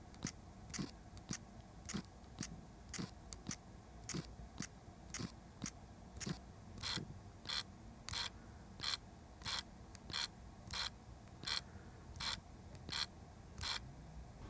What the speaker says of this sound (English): while the TTArtisan is more quiet in terms of autofocus noise, its aperture is a bit more noisy compared to the Fuji